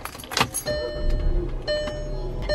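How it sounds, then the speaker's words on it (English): A 2014 Volkswagen Jetta engine cranks and catches after a few clicks and rustles inside the cabin, settling into a low, steady idle hum close by. "let me turn the car on"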